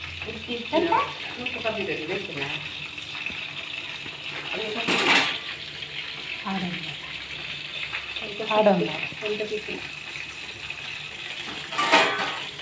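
Large bangude (mackerel) fish coated in rava frying in a pan, a soft steady sizzle heard under frequent conversational talk, with a few sharp clinks and bursts of louder spattering along the way.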